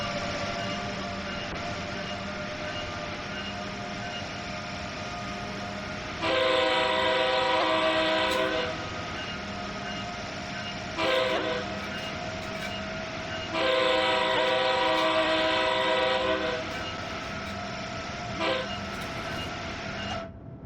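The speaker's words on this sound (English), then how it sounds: "There's something to be said about the US locos and the horns on the US trains." A US train horn blows in long, loud chords at New York Trenton, sounding in two extended blasts with short toots between them over a steady rumble of rail traffic, with no talking.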